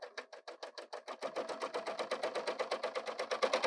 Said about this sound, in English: let's get some fabric under there and listen to how it sews